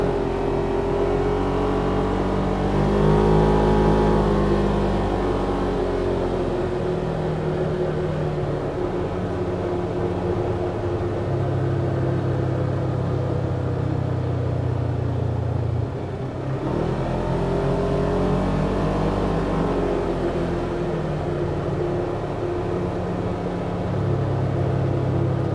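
A Kawasaki Teryx or Polaris RZR XP 1000 side-by-side drives continuously, its engine droning loudly with shifting revs and a rumbling cabin-level hum throughout, no talk audible.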